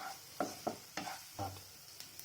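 A spatula stirs and scrapes egg bhurji masala with chili powder in a hot pan, about six distinct strokes over a soft, low sizzle, quiet and close.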